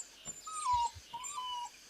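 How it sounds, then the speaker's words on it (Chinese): A small puppy whimpers in two thin, drawn-out whines, faint and close, with soft thumps between them. "去摸摸小狗狗"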